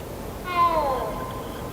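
A single short cat meow from a video game, a clear rising-then-falling mew heard once over a steady background hum.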